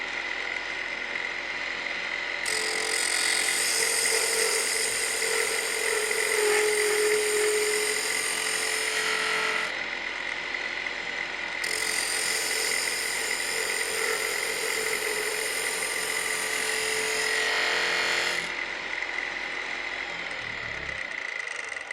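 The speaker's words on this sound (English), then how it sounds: "Bring it to a cutting position and just start turning, making sure that that bevel is riding against the wood." A woodturning gouge cuts a bead on spinning wood on a lathe, producing a steady, high-pitched whine and hiss that swells in two long passes over the motor's constant hum, close and loud, without speech.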